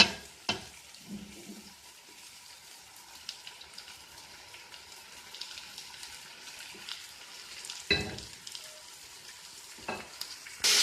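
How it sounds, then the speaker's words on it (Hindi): Mutton trotters sizzle quietly as they fry in a pan, with occasional scraping stirs and clatters of a utensil breaking the steady crackle. "ये मैंने इसको भून लिया पायों को"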